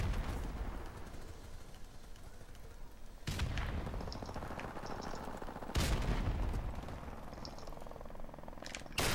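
Video game gunfire in a first-person shooter match, several loud sharp bursts of shots against a constant rumbling background, with quieter crackles between them and no speech.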